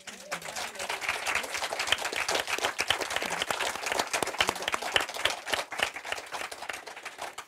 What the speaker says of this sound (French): Je pense qu'on peut les applaudir déjà maintenant.